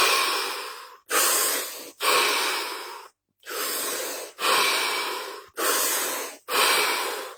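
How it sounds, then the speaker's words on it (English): Deep breaths drawn in a stillness exercise, seven long broadband inhales and exhales in steady succession, close and fairly loud, each lasting about a second with brief pauses between, no talking. "5 deep breaths, 30 seconds,"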